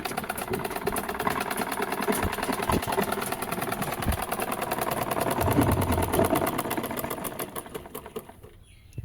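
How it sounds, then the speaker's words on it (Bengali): A domestic sewing machine stitches a large quilted blanket, its fast rhythmic needle clatter running continuously and close for most of the clip before slowing and fading near the end. "আমি কিন্তু সেলাই সুতো লাগালাম আর সেলাই করতেছি"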